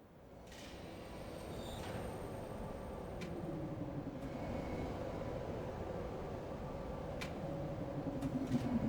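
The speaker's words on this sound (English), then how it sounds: "So the tram is getting called." A tram in the 1997 game Riven approaches with a low, steady mechanical rumble that slowly builds in loudness, broken by a few faint clicks and metallic ticks.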